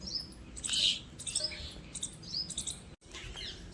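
Sparrows chirp and tweet in quick bursts, bright and fairly near, with short pauses between the calls.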